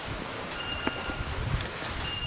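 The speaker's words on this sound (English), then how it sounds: "It's very windy." Steady outdoor wind buffets and rushes in Bhutan during rice harvest, with faint rustling throughout and no voices.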